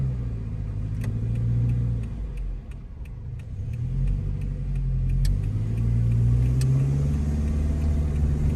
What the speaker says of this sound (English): Pull off that clutch nice and slow.